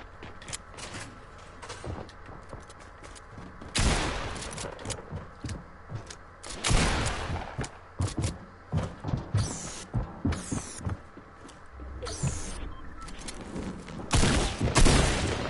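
Fortnite gunfire in bursts, sharp rattling volleys broken by short pauses, loud and close, with other game noises between the shots.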